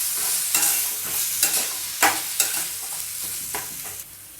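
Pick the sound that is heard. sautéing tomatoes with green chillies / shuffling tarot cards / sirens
sautéing tomatoes with green chillies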